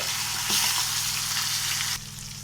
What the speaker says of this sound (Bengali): এবার আমি মাছগুলো একটা একটা করে দিয়ে ভালো করে ভেজে নিচ্ছি।